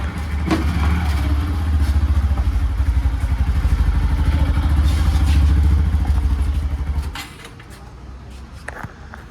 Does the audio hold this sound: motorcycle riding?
yes